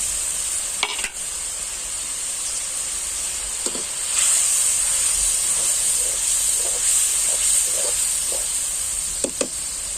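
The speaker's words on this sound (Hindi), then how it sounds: "इसमें डाल देते हैं हम टमाटर 1 कटा हुआ" Chopped tomato dropped into a sizzling Chhattisgarh-style chicken curry base of fried ground onion, giving a steady hiss of frying with faint stirring clinks and scrapes scattered throughout, no voices.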